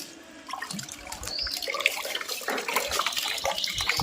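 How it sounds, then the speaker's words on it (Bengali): Bubbles blown into water make a steady run of splashy gurgling and burbling, fairly close and continuous, with no talk over it. "তুই বাবেল করছিস জলের ভেতরে"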